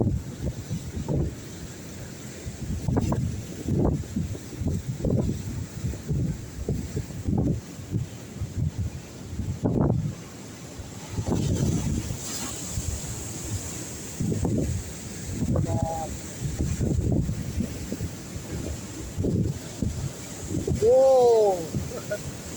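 Rough monsoon sea at Harihareshwar beach churns with surging, rumbling waves, while heavy wind buffets the microphone in irregular gusts, and people speak intermittently over the roar.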